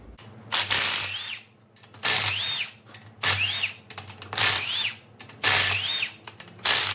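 A 1/2-inch drive impact wrench works on car bolts in five separate loud, close bursts, each a rapid hammering rattle with a rising whine, divided by short pauses of near quiet.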